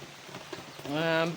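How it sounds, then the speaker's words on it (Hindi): Rain falls steadily outdoors after a night-long downpour, a soft, continuous hiss of drops on surfaces, with a voice briefly rising over it near the end. "ये देखो गाइस, पूरी रात हो गई हमें बारिश लगी हुई"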